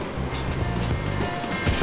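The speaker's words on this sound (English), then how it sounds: "this is the waterfall called Probe, which is an attraction worth seeing in our beautiful town of Yaremche" Probe waterfall in the town of Yaremche sends up a dense, steady roar of rushing water, loud and close, with a low rumble beneath constant broadband spray and no speech.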